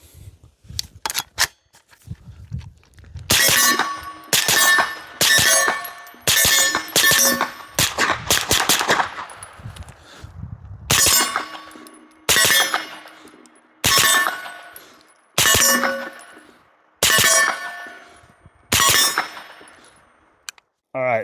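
A Palmetto State Armory AK-V 9mm fired in double taps from about 15 yards: loud sharp paired shots in a steady rhythm, with a few scattered single reports and handling clatter at the start.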